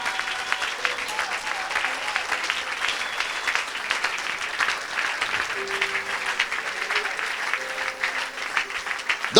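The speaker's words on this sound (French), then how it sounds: "Acclame, donne-lui gloire." A church congregation applauds steadily throughout, a dense continuous clatter of many hands clapping with crowd noise, while a voice sings or speaks faintly underneath.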